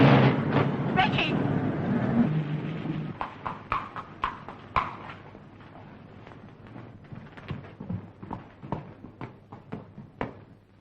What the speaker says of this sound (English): Strider, I want you to follow that horse and make good time